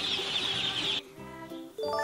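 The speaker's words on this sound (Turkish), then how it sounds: "Civcivler şöyle bir ses çıkartırlar. Cik cik cik diye bir ses çıkartırlar." High-pitched chirping after a brief jingling sound, a few short peeping calls close by, with no talking.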